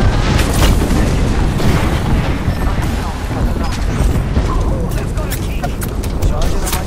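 Heavy explosion blasts and gunfire hit the player in the battle royale shooter Apex Legends, a dense, loud barrage of booms rumbling throughout with voices talking over it.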